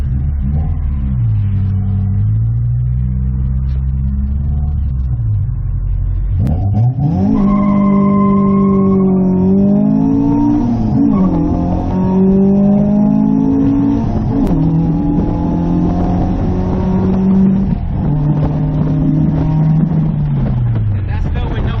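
A car with a B20 VTEC engine accelerating hard, the engine note climbing and falling in pitch through several surges, loud and close from inside the car, with occasional talk mixed in.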